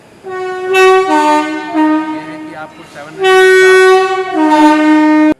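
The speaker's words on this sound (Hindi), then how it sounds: "क्या हॉर्न चेक कर रहे हैं?" An Indian Railways train horn is tested in loud, sustained blasts that break off and start again, with a person talking between and under the tones.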